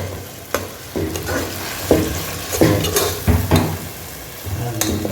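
Onions sauté in a pan for a chicken liver gravy, with a soft sizzle under repeated clanks and scrapes of a spoon stirring against the metal at an uneven rhythm.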